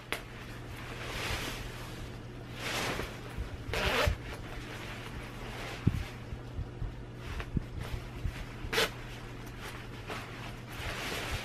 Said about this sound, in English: Oh, it actually has two zippers.